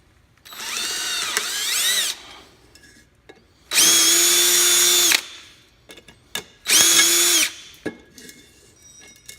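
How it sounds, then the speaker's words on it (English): A power drill with an HSS bit drills out brake rivets on a Ferret, three loud whining bursts separated by short pauses, with small clicks and taps between them. "drill them out one by one"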